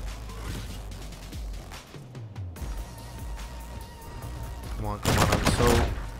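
Rapid assault rifle fire in Call of Duty: Infinite Warfare multiplayer, crackling bursts running almost throughout with a louder, denser volley near the end, mixed with other game sounds.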